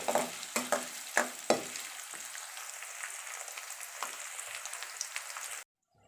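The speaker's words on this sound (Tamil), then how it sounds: "அதோடைய பூண்டையும் போட்டு வதக்கிக்கலாம்." Garlic sautéing in hot oil in a pan until brown, a steady close sizzle with a few sharp scraping stirs at the start, then an even crackling fry that cuts off abruptly.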